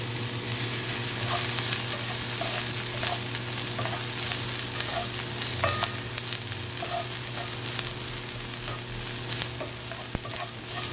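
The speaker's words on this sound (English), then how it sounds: "Sauteing some veggies that will be going into my meatloaf." Vegetables for a meatloaf sizzle steadily in a pan, a continuous close frying hiss with occasional light clinks and scrapes of a spoon against the pan.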